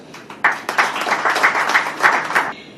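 Audience applauding for athletes at a sports support event in Chandigarh, India, a short burst of clapping that starts abruptly and stays moderate before stopping after a couple of seconds.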